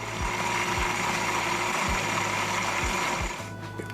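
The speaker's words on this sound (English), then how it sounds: "I'm going to get this on the blender, on the base, and we're going to start." A blender making vegan mayo whirs loudly and steadily, its motor droning with a few brief dips in pitch before it starts winding down at the end.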